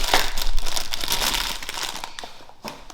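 Plastic packaging crinkling and crackling as it is opened by hand, close and continuous for a few seconds before easing off, with no talk.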